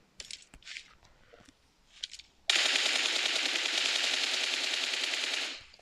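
Automatic gunfire in the mobile battle-royale game PUBG Mobile: a few short muffled bursts, then a loud, sustained rapid stream of shots lasting about three seconds before cutting off.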